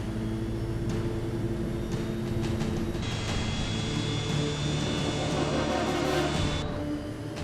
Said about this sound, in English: The F-28 struggles to get airborne.